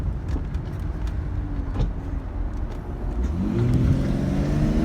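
A 2003 BMW 325i engine pulls at three-quarter throttle, a smooth steady drone whose pitch climbs as it accelerates, growing slightly louder near the end, close and with no talking.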